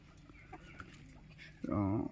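Chickens roaming in a farm enclosure, a few soft clucks and then a louder burst of clucking near the end, with faint background sounds.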